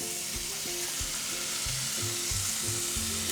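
Marinated meat for Korean duruchigi frying in a pan with two tablespoons of cooking oil, a steady sizzle with soft stirring and scraping bumps throughout, close and continuous with no talking.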